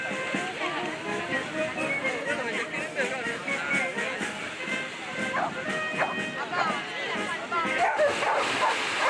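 A dog, a Newfoundland, barks and yips during a water rescue exercise at sea, its repeated short calls mixed with splashing and busy background noise while people talk nearby.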